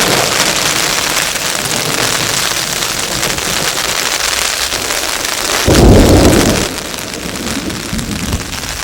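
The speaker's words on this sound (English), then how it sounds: "You guys really have to listen to this thunder." Heavy rain drums steadily on a tent during a thunderstorm, and a deep rumble of thunder swells for about a second partway through before the downpour carries on loud and close.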